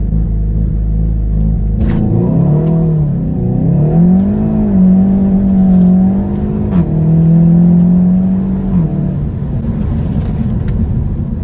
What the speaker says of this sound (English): Let's do a launch.